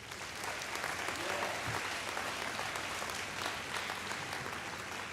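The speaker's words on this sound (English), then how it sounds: "If you can give a round of applause to this group" A high school athletic awards crowd gives a sustained round of applause for the track team, dense even clapping from many hands that holds steady throughout with faint voices mixed in.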